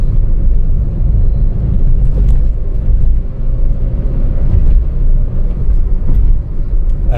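A Tata Altroz fitted with new NGK spark plugs drives up over a bridge, a steady loud low road rumble and engine drone heard from inside the car, with no talk.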